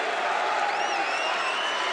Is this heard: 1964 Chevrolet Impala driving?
no